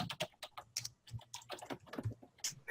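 Rapid clicks from a computer keyboard, irregular and close, as someone types in bursts in a quiet room.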